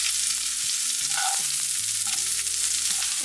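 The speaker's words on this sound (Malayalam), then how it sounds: "ഇനി അരിഞ്ഞ സവാള ഇതിലോട്ട് ഇട്ട് കൊടുക്കാം." Chopped onion fries in hot coconut oil with popped mustard seeds, a dense continuous sizzle close to the pan with occasional stirring clatter, and no talking over it.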